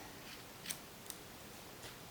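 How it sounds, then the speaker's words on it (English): Scissors trimming chunky knitted yarn at a knot on an arm-knit garter stitch blanket give a few faint, crisp snips with quiet pauses between them. "Take your scissors and just kind of trim it to the shape of the knot."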